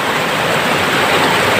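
Waterfall at Goiliang near Hayuliang in Anjaw District, Arunachal Pradesh, a loud, steady, close roar of rushing water with no breaks or voices.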